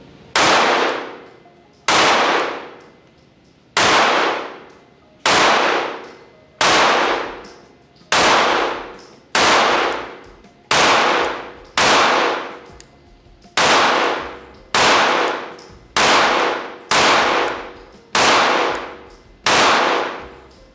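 Loud pistol shots fire one after another at a slow, steady pace, each sharp crack followed by a ringing decay, about a dozen in all.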